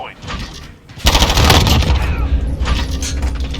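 Gunfire in the video game Modern Warfare: a loud, sustained run of rapid automatic shots, close and continuous after a quieter lead-in, with a voice talking over it.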